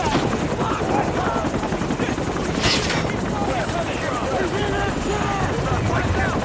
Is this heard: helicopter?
yes